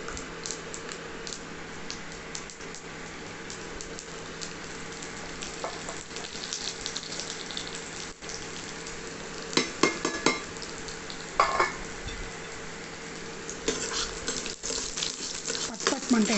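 Garlic fries in hot oil for a mango dal tempering, a faint steady sizzle with occasional bursts of louder crackling and spatter, close by.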